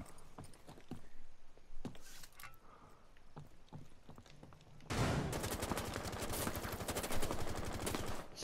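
Gunfire in Rainbow Six Siege: scattered single shots and brief bursts, then a sustained rapid automatic volley that fills the last few seconds, loud and close.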